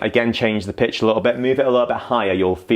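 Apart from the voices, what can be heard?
No everyday noises stand out.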